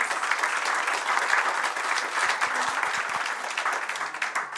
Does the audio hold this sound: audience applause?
yes